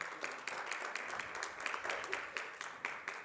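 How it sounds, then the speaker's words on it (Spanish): Audience applause at a school event, a steady wash of many hands clapping at a distance, fairly faint and continuous throughout. "vamos a brindar un fuerte aplauso"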